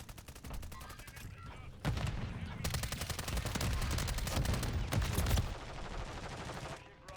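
Rapid bursts of gunfire from a gun fired while on a ladder in Lethal Company, a loud sustained rattle of dense repeated shots with brief pauses and no talking.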